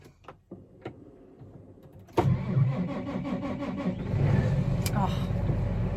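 A John Deere 8345R tractor cranks after a few light clicks and fires into a loud, steady diesel idle that gets a touch louder near the end, with a voice speaking close by.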